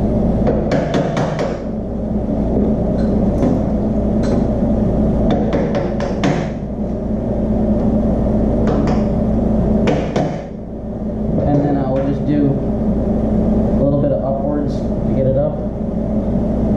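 Repeated sharp metallic taps from a ball peen hammer on a stuck Gravely caster spindle bearing, coming in short bursts over a steady low hum, with quieter tapping later on.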